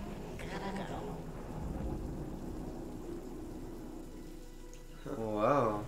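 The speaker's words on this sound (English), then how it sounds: "It's raining. The rain washed away." Steady rain and low rumbling thunder in a video game play throughout, with a voice speaking briefly over them near the end.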